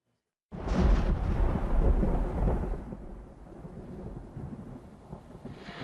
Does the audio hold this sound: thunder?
yes